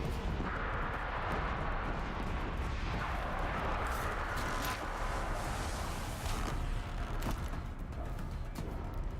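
A machine enemy in Horizon Zero Dawn opens fire with dense, booming, continuous shots that rumble loud and close throughout.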